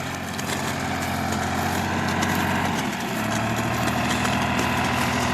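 A 14-ton Tümosan, Massey Ferguson or New Holland tractor engine idling in a farm field during manure hauling, a loud, steady rough diesel rumble that shifts pitch slightly midway, continuous and close, with no speech.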